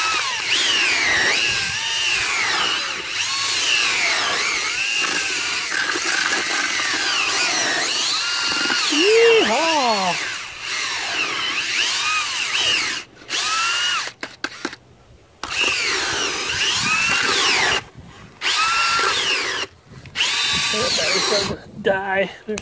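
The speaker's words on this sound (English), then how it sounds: "Break out the drill. Hope the battery's still charged." A cordless drill used for mixing whirs steadily for a long stretch, its pitch sliding up and down, then runs in short bursts with pauses between.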